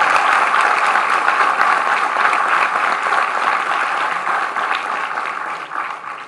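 A large audience at a convocation ceremony in Gwalior applauds loudly and steadily to welcome President Droupadi Murmu, and the clapping eases slightly toward the end.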